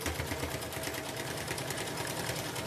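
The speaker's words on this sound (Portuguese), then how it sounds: "E vou passar uma costura em volta dessa tira todinha." A sewing machine runs a continuous stitch around a fabric strip, a rapid, even mechanical rattle and hum, close and steady with no talk.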